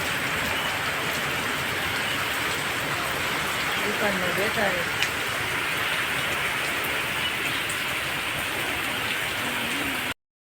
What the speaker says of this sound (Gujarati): એક દોઢ કલાકથી વરસાદ આવે છે આજે વરસાદ સારો પડી ગયો છે